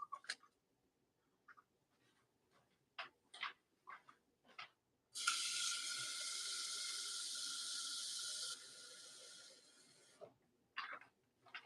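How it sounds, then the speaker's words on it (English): Water runs from a kitchen tap into a two-cup mason jar, a steady close rush lasting about five seconds that changes pitch partway through as the jar fills, set between quiet clicks and handling knocks. "And now I'm going to go get a little bit of water"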